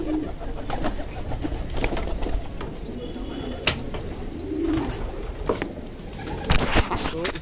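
Pigeons coo in a low, throaty murmur from a flock of around sixteen or seventeen birds, close by and steady, with wing flutters and scuffling, while someone talks in Hindi over them.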